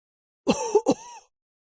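A single harsh throat-clearing cough, close and abrupt, in two quick bursts with a strained voiced tail, then silence.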